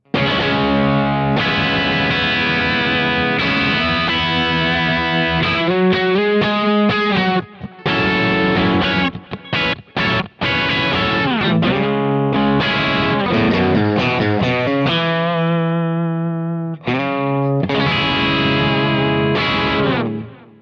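Distorted electric guitar through a humbucker pickup with a thick, gainy tone plays chords and riffs, sustained and loud, with short pauses between phrases.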